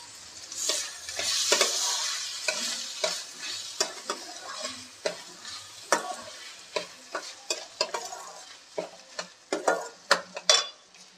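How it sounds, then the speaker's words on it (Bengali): Atap rice being stirred in a pan: a soft sizzle at first, then a run of quick, distinct scraping and clinking strokes of a spoon against the metal, growing more rapid toward the end. "চালটা একটু নেড়ে নেব।"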